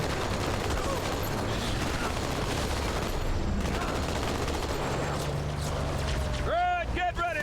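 Dense, continuous gunfire and vehicle rumble from a Halo 2: Anniversary firefight, steady and loud throughout, with a rising mechanical whine near the end.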